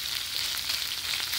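Chicken liver adobo frying in a pan, stirred steadily, with a dense, even close-up sizzle and faint scraping of the utensil throughout.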